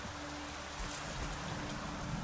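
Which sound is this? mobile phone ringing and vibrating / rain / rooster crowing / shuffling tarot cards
rain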